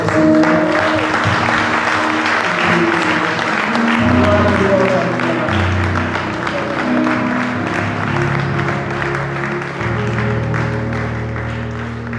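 A large church worship crowd applauds and cheers loudly and continuously, a dense wash of clapping mixed with voices and sustained music tones underneath.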